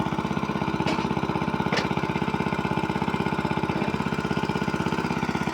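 A pit-draining water pump motor runs nearby with a rapid, regular chugging pulse, loud and steady throughout, with a couple of faint clicks on top.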